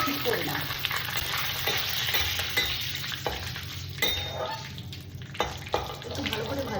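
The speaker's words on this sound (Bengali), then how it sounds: "একটু ভালো করে ভাজা ভাজা হয়ে যাবে" Curry leaves fry and crackle in a pan for a butter paneer dish, with a close, steady sizzle broken by sharp stirring scrapes of a spoon against the pan.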